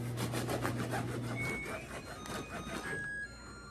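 Knife sawing through a loaf of French bread on a cutting board, a close run of rhythmic rasping strokes with a steady hum underneath, tapering off near the end.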